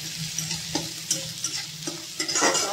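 Onion is stirred and fried on a low flame in a pan with ginger, garlic, cumin and chilli for dal tadka. Repeated scraping strokes land about every half second over a loud, close sizzle.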